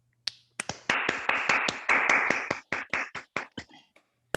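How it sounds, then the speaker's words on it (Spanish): Applause for a master's thesis defense in agronomy held online: a series of sharp claps builds into a brief dense burst of clapping, then thins to scattered separate claps before stopping, with no talking. "vamos a darle un aplauso al tesista"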